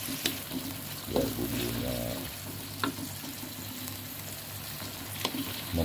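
Long beans and tempeh stir-fry in a pan with a steady low sizzle and a few scraping stirs, while a voice speaks briefly over it.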